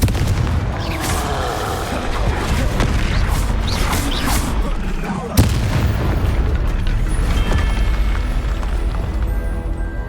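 A Confringo spell in Hogwarts Legacy bursts with a deep boom, set among continuous rumbling combat noise and other impacts, with a sharp blast near the middle and a voice speaking briefly.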